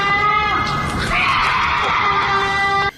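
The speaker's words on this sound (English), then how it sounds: "This horrifying sound, according to its uploader, is a cougar mating call" Cougar mating call in the woods: a sustained, piercing, tonal shriek like a woman screaming, loud and close, wavering in pitch for nearly three seconds before cutting off abruptly.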